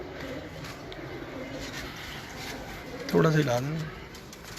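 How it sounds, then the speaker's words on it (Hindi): Champion pigeons on a rooftop in Lahore, with a single clear coo rising near the end over faint background chatter of people talking. "ये कबूतर हैं जी जो उस्ताद इम्तियाज़ हुसैन चेयरमैन साहब की इस छत पर उड़ाए गए"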